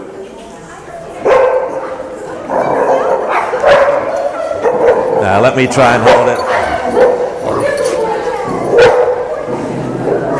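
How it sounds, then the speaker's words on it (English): A dog barks in quick yips and whimpers repeatedly, close and loud indoors, mixed with a person talking over it throughout. "There's a good dog."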